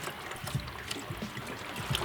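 Distilled water poured into the cooling system of a Ford S550 Mustang EcoBoost drift car, a steady close trickle and splash running for a couple of seconds.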